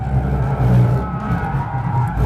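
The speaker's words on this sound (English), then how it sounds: "I'm about to brake really hard into turn 1" Hyundai i30 Fastback N braking hard into turn 1 on a track, engine droning loud and steady with a rough tire scrub as the car sheds speed and downshifts into the corner.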